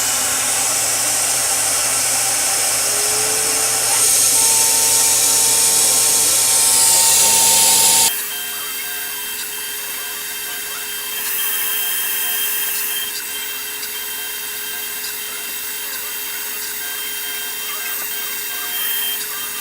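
CNC router engraving a workpiece, a loud continuous high whine that drops in pitch and level partway through, then holds a steady tonal hum with slight surges.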